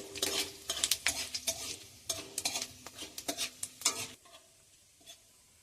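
Dry red chillies, bay leaves and five-spice sizzle in white oil in a wok while a utensil scrapes and clinks against the pan in a quick, irregular rhythm, then fades into a quiet hiss.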